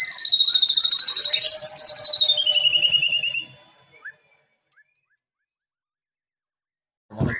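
A caged magpie robin (murai) sings loudly and close, a fast run of bright warbling whistles and chirps for about three seconds, then silence broken by a few faint notes and a short knock at the end.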